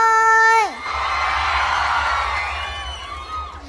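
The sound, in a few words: audience screaming and cheering at Isan comedy show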